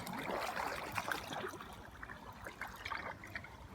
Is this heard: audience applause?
no